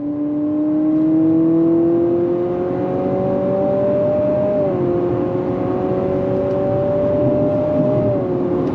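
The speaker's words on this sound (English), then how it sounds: "there is this pumped in sound when you go on throttle in sport mode, and it sounds very, very fake" A smooth synthetic engine drone, artificially piped into the cabin of a 2025 Honda CR-V Sport Touring hybrid in sport mode, rises in pitch as the car accelerates, dipping briefly at a gear shift and climbing again, steady and close.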